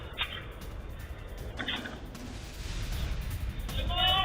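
Explosions follow a rocket attack, heard as muffled, distant blasts and crackling bursts rumbling faintly beneath a low background.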